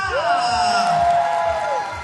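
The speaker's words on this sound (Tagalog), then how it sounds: "Sabay-sabay niyo pong sigawan at palakpakan, Miss Sharon Cuneta!" Crowd shouting and cheering for Sharon Cuneta at a live stage event, a loud sustained roar of many voices with a long drawn-out whoop rising above the din for nearly two seconds.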